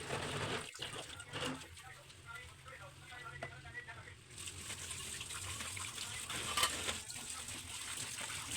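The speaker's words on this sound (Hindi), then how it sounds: "अब मैं धोऊंगी बर्तन अब मैंने धोने हैं।" Dishes being washed under a running tap at home: steady gushing water runs throughout with occasional clinks and knocks of utensils, fairly close, with no talking.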